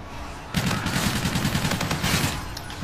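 Rapid bursts of gunfire in Call of Duty: Infinite Warfare break out after a brief pause and keep up as a dense, loud rattling volley for a couple of seconds.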